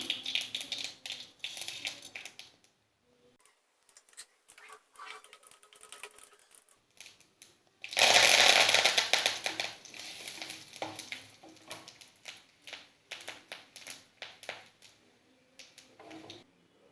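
Mustard seeds, urad dal, curry leaves and chillies crackle and spit in hot oil as a tempering for chutney, with rapid irregular pops that swell into a loud burst of sizzling midway and then keep crackling.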